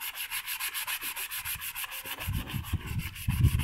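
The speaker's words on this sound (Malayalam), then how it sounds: "വാട്ടർ പേപ്പറിൻ്റെ ചെറിയൊരു പീസ് കൊണ്ട് ആ കത്തി നന്നായിട്ട് ഉരയ്ക്കുക." A rusty knife blade is scrubbed with a small piece of wet-and-dry water sandpaper, making steady, close rhythmic rasping strokes that grow heavier and rougher toward the end, with no talking.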